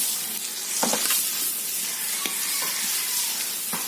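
Butter melts and sizzles in a hot pan as the first step of a spaghetti sauce. A steady, loud frying hiss runs throughout, with a few sharp crackles and scrapes from stirring.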